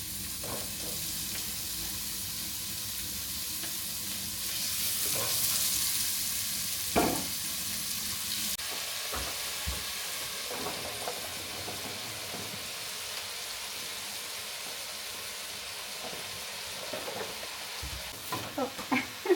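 Onions sizzle and fry steadily in a pan on a wood-fired Metters stove, a continuous close hiss with occasional stirring scrapes and clatters, rising briefly at moments and ending with a few sharper knocks.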